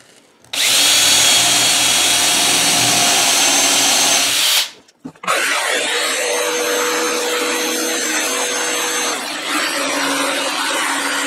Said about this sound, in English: drill you a starter hole